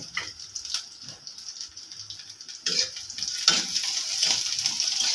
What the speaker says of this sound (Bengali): তেল দিয়ে দিলাম সরিষার তেল আর পেঁয়াজ রসুন ভেজে নিব